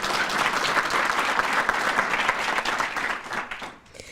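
An audience applauds honored students at a school ceremony, a dense, continuous round of clapping that holds steady for several seconds before thinning out at the end.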